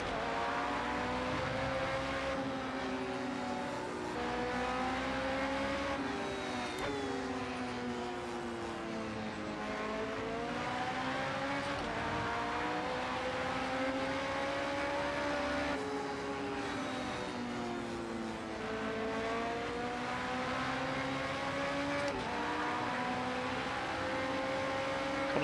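A Porsche 919 Hybrid race car at Le Mans in Project Cars 2 screams at high revs, loud and close and continuous, its pitch rising and dropping through repeated gear changes as it accelerates and brakes along the track.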